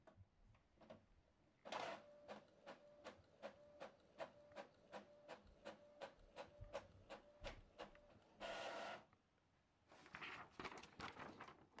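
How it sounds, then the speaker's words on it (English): An Epson EcoTank ET-3850 printer prints a test page, giving a close, steady run of rhythmic mechanical ticks and clacks with rubbing paper-feed sounds and short whirring bursts, heard alone. "Now it's printing."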